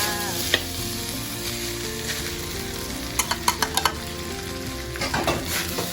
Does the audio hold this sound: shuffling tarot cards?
no